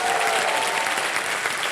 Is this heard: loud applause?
yes